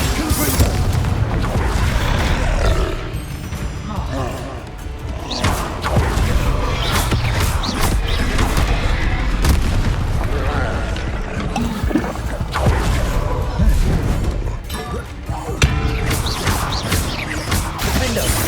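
Confringo blasting-curse explosions in the Hogwarts Legacy video game, a dense stream of booming blasts and crashing impacts layered over continuous loud game action for the whole stretch.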